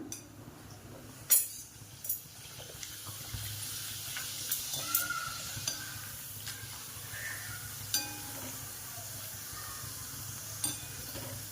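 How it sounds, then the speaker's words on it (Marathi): Papad fries in hot oil for a restaurant-style masala papad, a faint low sizzle with scattered clinks of a utensil and a few sharper crackles, fairly quiet and with no voices. "आपण तेल तापायला ठेवले, आपण मसाला पापडासाठी पापड तळूया।"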